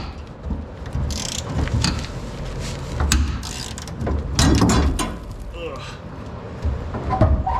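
A half-inch drive ratchet wrench works loose an old part, giving bursts of rapid metallic clicking and clanks close by over a busy, rumbling background.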